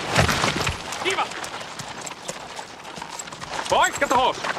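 Horse hooves clip-clop steadily amid a busy scene, with voices talking and calling over the clatter.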